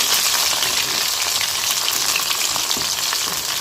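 Chicken 65 deep-frying in hot oil, a dense, loud, continuous sizzle and crackle close up with no talking.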